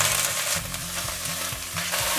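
Chili oil, ginger, plenty of garlic, dried chili and scallion stir-fried in a pan for kkanpunggi, giving a constant loud sizzle with scraping stirs of the utensil close by.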